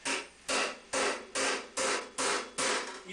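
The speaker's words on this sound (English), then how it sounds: "And hammer along its top edge." A flat-faced hammer with a polished face strikes a steel plate for a 14th-century barrel helm on an anvil, seven even, ringing blows roughly half a second apart, each one close and clear.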